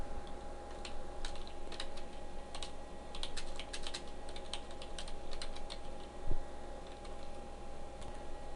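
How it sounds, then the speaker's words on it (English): Soft, steady clatter of fingers typing on a computer keyboard, irregular keystrokes coming in quick clusters over a constant low hum, with no talk. "I'm going to start by typing a heading tag."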